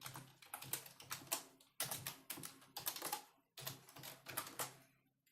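Quick keystrokes clatter on a computer keyboard in three short bursts of rapid typing with brief pauses between, close and fairly quiet, no voices.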